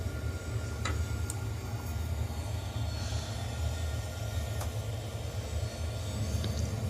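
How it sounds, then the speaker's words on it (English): A freight train beginning to roll, a low continuous rumble of heavy rail cars with occasional sharp metallic ticks and clanks from the wheels and couplings, steady and fairly close. "Okay, now the train is moving."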